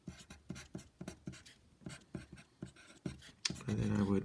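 Equations being written out by hand, a quick rhythmic run of scratchy pen or marker strokes in short bursts, close and clear, ending with a brief spoken voice.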